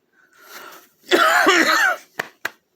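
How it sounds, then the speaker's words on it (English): A person coughs close up: a rough, drawn-out hacking cough, followed by two short sharp coughs. "sorry about the coughing."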